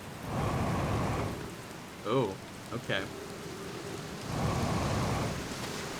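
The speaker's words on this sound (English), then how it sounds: "here we are, on a little island in a rather stormy ocean" Steady rain pours down with a low storm rumble on a small island in a rough, stormy ocean in the game Outer Wilds, the downpour easing briefly while a voice speaks a couple of words in the middle.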